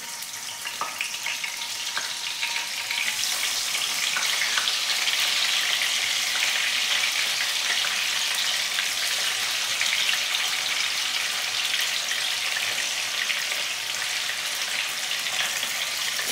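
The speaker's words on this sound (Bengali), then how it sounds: "এর ভেতরে এবার চিকেনগুলো দিয়ে আমি ভেজে নেব।" Marinated chicken pieces fry in hot oil for Afghani chicken curry, producing a loud, steady, continuous sizzle that hardly changes from start to finish.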